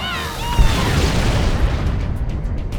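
A tank cannon firing and the shell exploding in the strategy game Halo Wars, a deep heavy boom that rolls out into a long rumble over battlefield noise.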